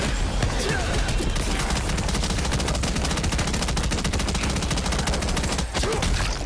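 A dark bomb goes off in the Lost Ark video game, a dense, continuous barrage of rapid, loud crackling bursts that runs almost throughout, briefly dipping near the end.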